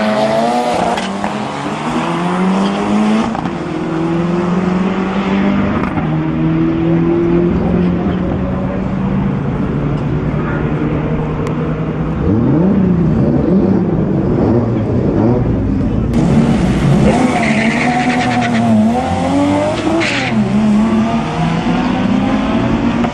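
A BMW race car runs at Tarlton Raceway, its engine roaring loudly and steadily as it accelerates through gear changes, with more engine noise around it and an announcer talking over the racing.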